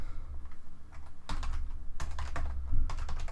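Computer keyboard typing during a penetration-testing session, irregular bursts of quick clacking keystrokes with brief pauses between runs, close and fairly loud, no voices.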